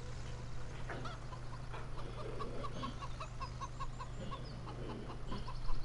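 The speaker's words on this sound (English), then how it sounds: "I swear, these chickens produce some eggs." Chickens cluck in a farming video game, a run of short, repeated clucks close by over a constant low hum and a busy ambient farm background, with no talk.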